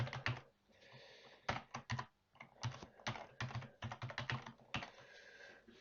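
A password typed on a computer keyboard: quiet, close bursts of rapid key clicks in uneven runs with short pauses between them, no voices.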